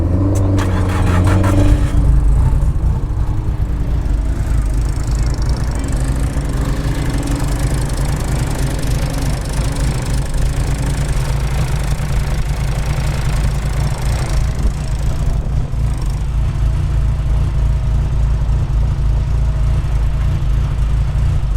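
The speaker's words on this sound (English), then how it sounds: "Yeah, we can start it up." A 1500HP Mitsubishi Evo 6 engine cranks and fires, then settles into a loud, lumpy, steady idle with a deep rumbling drone that continues close by throughout.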